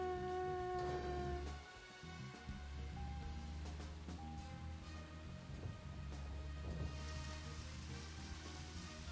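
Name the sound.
rain in video game Deadly Premonition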